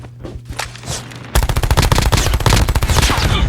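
Minigun fire in Call of Duty Mobile, a very rapid, loud stream of evenly spaced shots that starts abruptly after a quieter stretch of faint game sounds and keeps hammering without pause.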